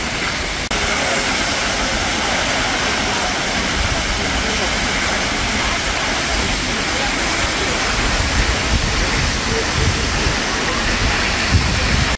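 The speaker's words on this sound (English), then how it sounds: "I stared at the waterfall for like a good 10-15 minutes." Roaring waterfall on Jeju Island with spray carrying toward the listener, a loud, steady broadband rush of falling water that stays unbroken throughout.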